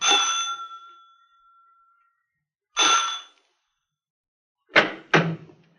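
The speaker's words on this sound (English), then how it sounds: "I rang the front doorbell." A front doorbell rings twice as a radio drama sound effect, each chime clear and close, the first one ringing out in a long decay. A pause follows, then two sharp knocks.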